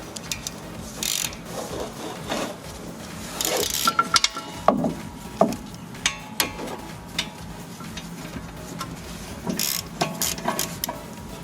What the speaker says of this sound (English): So we'll just get the ratchet now